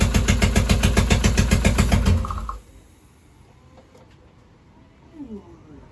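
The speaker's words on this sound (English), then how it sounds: "It's idling on its own." A DOHC ZC swapped engine running for the first time, with a loud, steady, rhythmic idle for about two seconds before it cuts off, leaving quiet background noise and a faint sound near the end.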